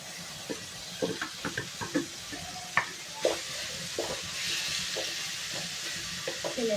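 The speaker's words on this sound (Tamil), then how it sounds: "தக்காளி காய் நல்லா வதக்கிடுச்சுங்க" Tomatoes with carrots and beans sauté in a hot pan, a steady sizzle under repeated scraping stirs and occasional knocks of a spoon against the pan, close and continuous.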